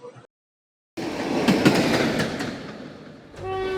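A passenger train runs along the railway track near Kanpur Central, a steady rumbling roar with rattling wheel clatter after a brief silence, then a tonal horn-like whine rising at the end.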